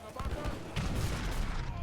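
Culverin cannon fire in Age of Empires III, a rumbling cluster of booming shots layered with battle noise, a heavier blast landing partway through, dense and continuous.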